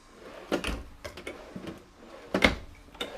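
RV kitchen drawers in a 2023 Grand Design Momentum 32G opening and closing, a series of sharp wooden knocks and sliding thuds at close range, irregularly spaced with quiet gaps.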